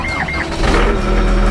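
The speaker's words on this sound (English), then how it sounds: "Okay, we got the skid steer turned on." A skid steer engine on a ranch starts up and settles into a loud, close, rumbling idle over a short stretch.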